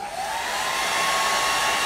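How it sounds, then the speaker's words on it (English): A hairdryer blows steadily at close range to dry blue paint on a Warhammer Ultramarines Space Marine miniature, a continuous loud whoosh with a slight rising whine at the start, with no talking. "I just might use my trusty hairdryer for a bit"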